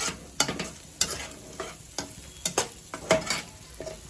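Masala pav filling stirred in a pan, a spoon scraping and tapping in irregular strokes over a soft sizzle, close and alone without talk.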